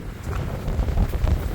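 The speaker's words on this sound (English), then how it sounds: "It is super windy." Strong mountain wind gusts buffet the microphone in a deep, uneven roar that swells and surges for a moment close up, with no talk.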